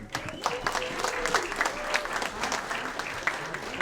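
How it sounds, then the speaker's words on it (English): Audience at a New Smyrna racing awards banquet applauds steadily for a 4th-place finisher in the Jack's Trucks division, a dense, sustained patter of many hands clapping at moderate distance in a large room. "Let's have a nice round of applause for JT Chastain."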